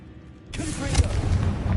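A Confringo fire spell goes off in a Harry Potter video game: a sudden loud blast opens a dense burning roar that carries on with rumbling bursts, and a voice sounds briefly over it.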